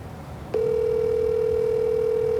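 A telephone call on speakerphone, with a steady, loud ringing tone that starts abruptly and holds unbroken to the end.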